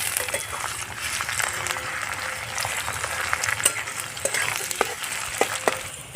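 Chopped onion frying in hot oil with ginger for a paneer spring roll filling, a continuous busy sizzle with sharp crackles and occasional stirring clinks, close and alone.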